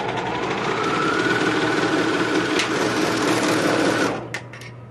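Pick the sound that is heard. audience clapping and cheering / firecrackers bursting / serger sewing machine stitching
serger sewing machine stitching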